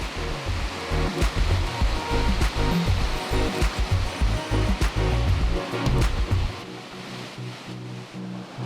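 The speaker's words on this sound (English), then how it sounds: "The last stop of the road trip was Stevenson Falls, a 122 metre cascading waterfall just outside of Marysville." Stevenson Falls, a 122 metre cascading waterfall in rainforest just outside Marysville, Australia, gives a loud, dense, continuous roar of rushing water that eases slightly toward the end.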